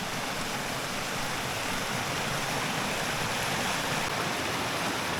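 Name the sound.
swollen creek roaring after heavy rain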